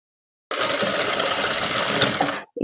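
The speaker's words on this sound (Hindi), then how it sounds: "अब इस पे मुकरम सेट करते हुए लगाएंगे सिलाई" A sewing machine stitching a lehenga, running in one steady close burst of about two seconds of rapid whirring needle chatter before stopping.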